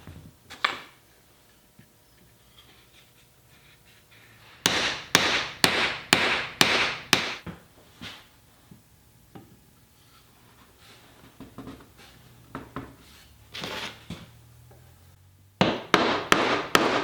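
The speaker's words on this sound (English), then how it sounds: "The next step is to use a little wood glue and pound the dowels into the holes" Wooden dowels are pounded into glued holes with rapid, sharp hammer knocks in bursts of several blows, loud and close, separated by quieter stretches with a few lighter taps.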